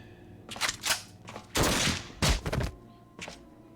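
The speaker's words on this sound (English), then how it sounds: "It's just a gunshot." Several sharp gunshots in a video game, a few close, loud bursts spaced irregularly with brief quiet gaps between them and no talk.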